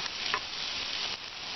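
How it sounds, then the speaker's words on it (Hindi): Onions sautéing in a pan with a bay leaf until soft, a steady close sizzle with faint stirring scrapes and no talking. "और प्याज को हम नरम होने तक भूनेंगे"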